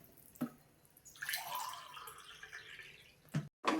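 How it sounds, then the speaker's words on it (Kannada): Three glasses of water are poured into a pot of chicken biryani rice, a steady close splashing pour lasting a couple of seconds, framed by brief clinks of the vessel. "3 ಲೋಟ ನೀರು ಹಾಕ್ತಾಯಿದ್ದೀನಿ."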